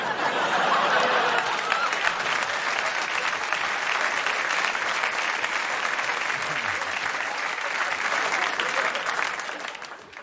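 A studio audience at a comedy stand-up set bursts into sustained applause, a dense, loud wall of clapping that holds steady for about nine seconds, with scattered laughter mixed in before it tapers off.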